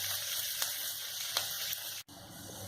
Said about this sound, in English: Now let the onions cook